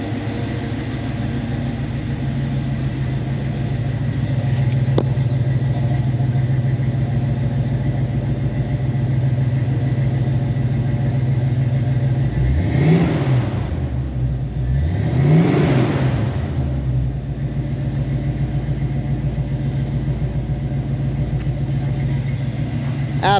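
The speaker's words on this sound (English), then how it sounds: "Motor sounds great, guys." A 1980 Camaro Z28 V8 idles with a steady, close rumble, then gets two quick revs in a row near the end before settling back to idle.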